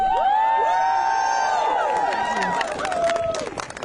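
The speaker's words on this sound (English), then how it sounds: "I just want everyone to give a cheer for themselves and for us and for the work that we do" A crowd at an outdoor climate protest in Glasgow cheering and whooping loudly with high shouts and scattered clapping, sustained throughout and tapering slightly toward the end.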